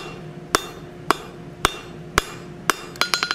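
A hammer rings sharply on an anvil while forging steel, drawing the bar out between centers: five evenly spaced strikes about half a second apart, then a fast flurry of lighter blows, close and loud with no talk.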